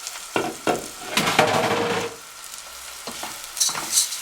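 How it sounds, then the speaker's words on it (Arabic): Washed, drained rice is tipped into a hot pan and stirred, giving bursts of loud sizzling and scraping that rise, fade back, then return in shorter stirs, close by and with no voices. "هنزل بعد كده بالرز بتاعي، طبعا انا غسلاه كويس جدا ومصفياه."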